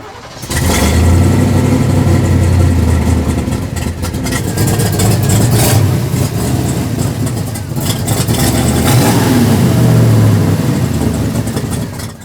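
Completely rebuilt muscle car engine catching and running, settling into a rough, loud idle, then swelling through throttle blips and revs before easing back, heard up close.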